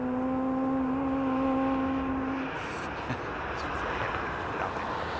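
Aircraft engines spool up as a plane pulls away from a standstill at a runway 27R departure: a steady, fairly loud broadband roar with a droning tone that fades after a couple of seconds, buffeted by wind.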